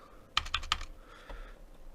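Keys tapped on a computer keyboard: three quick, close clicks in a short burst, followed by a softer fourth tap, with no talking.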